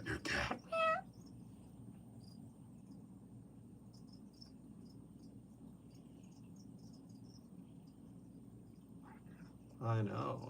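A cat meows briefly near the start and again at the end, with a steady chorus of crickets chirping faintly in between against a quiet night background.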